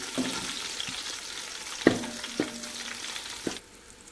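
Whole spices, including bay leaf, green and black cardamom and star anise, fry in hot oil for chicken biryani, giving a steady crackling sizzle with occasional clicks of stirring before the sound drops away at the end.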